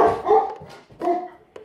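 Dogs barking indoors in a family home, a few sharp barks in quick bursts, close and fairly loud, with short gaps between them and no talk over them.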